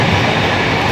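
The Rajdhani Express between Delhi and Kolkata runs with a loud, dense, continuous rumble and rattle from on board, with no voices.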